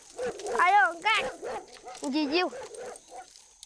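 Hunting dogs in a Himba village in Namibia, southern Africa, worry a caught genet, a small bushmeat mammal. They give a close run of high, excited yelps and whining cries in several bursts.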